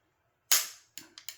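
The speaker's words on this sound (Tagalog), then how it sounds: "Nag-engage yung hammer, tsaka yung firing pin, pero hindi pumutok" An AR-15 hammer and firing pin snap without the rifle firing: one sharp metallic click followed by a quick series of three lighter clicks, close and crisp against silence.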